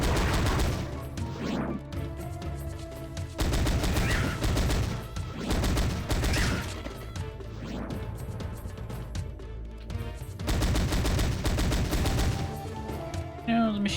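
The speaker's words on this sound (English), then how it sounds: "You know, the machine gun seems a tad loud." Machine gun in a Sega Saturn game, long loud bursts of rapid automatic fire separated by short pauses, with crashing impacts and a voice talking beneath.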